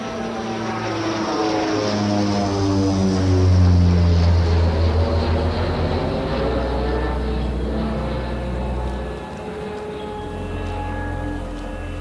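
A propeller airplane flies past with a loud, steady engine drone whose low tones rise and fall as it passes, heard alone without any talking.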